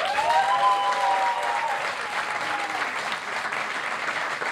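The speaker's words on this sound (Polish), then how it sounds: "Wielkie brawa dla Szymona" An audience at a student music concert breaks into steady, warm applause that carries on for several seconds, evenly loud and close, with a brief spoken voice at the start.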